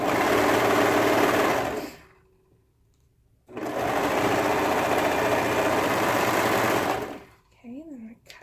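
A serger sewing machine stitches a fabric seam in two loud, steady whirring runs separated by a short pause, followed by brief quiet sounds of handling.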